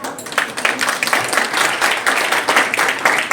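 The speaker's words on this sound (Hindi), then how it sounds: "जितना खूबसूरत हॉल है उतनी आपकी तालियों की आवाज में दम नहीं है" Audience clapping in a hall at a children's kidney program event, a steady moderate round of applause, fairly close and dense throughout, with no speech over it.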